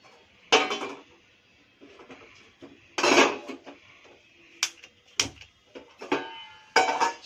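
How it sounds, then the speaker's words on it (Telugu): A steel bowl is handled and set down in a home kitchen while a herbal decoction is prepared, giving a series of sharp metallic clanks and knocks spaced a second or so apart. "స్టీల్ గిన్నె పెట్టుకోవాలి"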